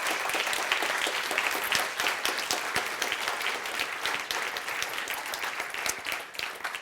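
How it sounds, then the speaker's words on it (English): An audience applauds Dr. Ghassan Abu-Sittah at a lecture on Gaza and the ecology of war, continuous loud, crisp clapping for the whole stretch, easing slightly toward the end. "Dr. Ghassan, really, I think you deserve a big applause from all of us for your bravery"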